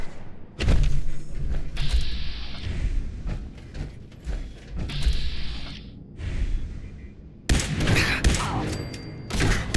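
Gunfire in the video game Fallout 4, a string of loud shots and bursts, with sharper, denser volleys near the end and dull thuds between them.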